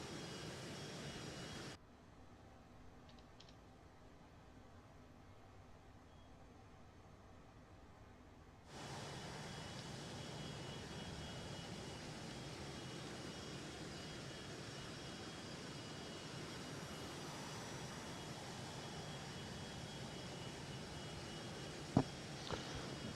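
Phenom 100 jet engine in Flight Simulator 2020 drones as a steady broadband hiss and whine, dropping to a quieter, muffled level for several seconds before returning to full volume, with one brief click near the end.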